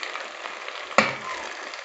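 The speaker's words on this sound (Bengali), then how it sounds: "আমি এবার উল্টে দিচ্ছি। খুব একটা কড়া করে ভাজবো না" Pieces of chhana (cottage cheese) sizzle in oil in a pan with a steady crackle, broken by one sharp clatter of a utensil partway through.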